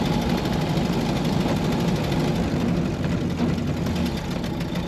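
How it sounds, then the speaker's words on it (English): A 1931 Ford Model A five-window coupe engine runs steadily and loudly throughout, giving a continuous low rumble with a faint knocking texture and no talk over it. "Today we're going for a ride in a 1931 Ford Model A."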